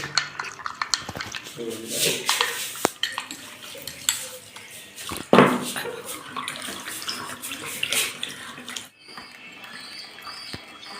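A spoon clinks and scrapes inside a container while stirring Dettol with bleaching powder, liquid sloshing and splashing close by in uneven bursts with short pauses between strokes.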